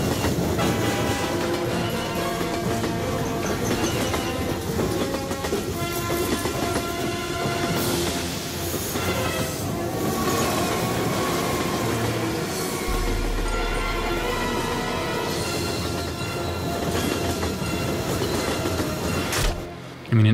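Library train sound effects: a rolling train with clickety-clack of wheels on rails and a horn blast, loud and continuous throughout, with faint talk mixed in.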